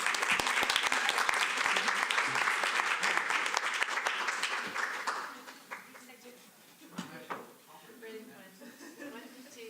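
Audience applause at a historic zoning meeting rings out loudly in the hall for about five seconds, then fades into scattered claps and room noise with some talking.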